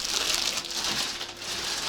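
A plastic bag crinkles steadily, a dense, continuous rustle close to the microphone lasting about two seconds, heard with no voices.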